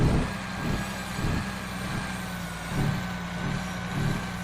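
A Western Star 49X truck engine in American Truck Simulator idles with a steady low rumble and a faint high whine, its tone swelling slightly every second or so.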